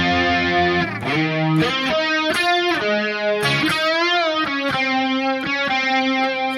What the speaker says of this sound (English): these nice grunge tones.